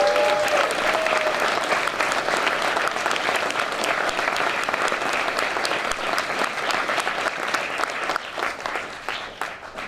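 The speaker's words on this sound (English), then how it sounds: "everybody give all the women who organized today's historic and monumental march a round of applause" A crowd at a march rally claps for the women organizers, a loud, continuous wall of applause that holds steady for several seconds before thinning slightly toward the end.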